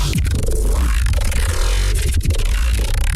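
A heavy, gritty sub bass synth rumbles continuously and loud, with glitchy crackling distortion layered over it and brief dropouts.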